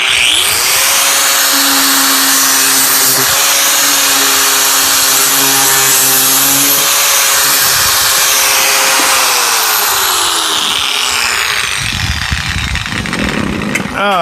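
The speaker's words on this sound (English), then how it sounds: "We're going to come down here and use this little cut-off wheel." A small cut-off wheel grinds through metal, a loud sustained whine with steady pitch that drops as it bites and then winds down, followed by clattering handling noise.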